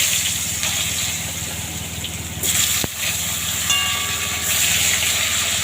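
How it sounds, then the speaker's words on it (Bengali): Steady hiss of thick-cut potato strips frying in hot oil left from frying fish, with a sharp clink partway through and a low background hum. "এই মাছের তেলেতেই আমি আলুগুলো ভেজে নেব"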